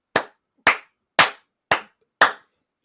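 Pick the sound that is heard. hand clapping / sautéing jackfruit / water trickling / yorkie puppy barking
hand clapping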